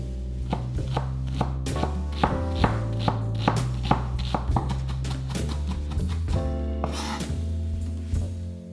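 A knife chops thyme, marjoram and onion on a board for a rustic Italian pork and beans dish, making a steady, close rhythm of crisp cutting knocks that quickens slightly toward the end.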